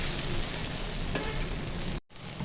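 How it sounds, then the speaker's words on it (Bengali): Ginger-garlic paste frying in hot oil with cumin and onions for a vegetable curry, a steady close sizzle that cuts out abruptly near the end, no voices. "আদা রসুন বাটা একসাথে।"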